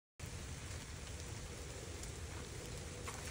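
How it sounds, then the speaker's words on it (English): Steady light rain hisses evenly by a pond, a dense continuous patter close by with no voices. "It's not pouring rain, but there it is."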